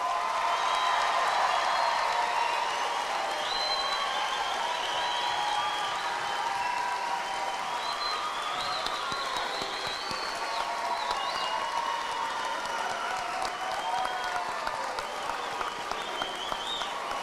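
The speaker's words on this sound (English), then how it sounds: "can we have a very robust round of applause?" A large audience at a high school commencement ceremony breaks into dense, sustained applause that fills the hall evenly for over fifteen seconds, with scattered cheers mixed in.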